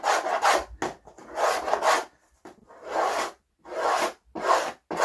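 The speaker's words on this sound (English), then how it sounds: "remove all this old foam from the inside" Old foam is scraped from the inside of a Yamaha TZR250 3MA motorcycle fairing panel in rough, rasping strokes, close up, in uneven bursts separated by short pauses.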